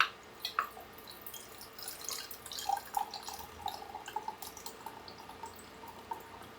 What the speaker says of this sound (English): 10-ounce jar of mushrooms, and I will drain those.